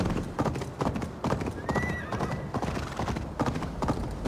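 Hooves of a galloping horse in Assassin's Creed Valhalla beat out a steady, loud clip-clop, broken by a high neigh midway, with faint voices behind.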